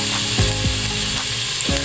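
Minced garlic sizzles steadily in hot cooking oil, a dense continuous frying hiss with a few low scraping stirs, close and fairly loud with no talking.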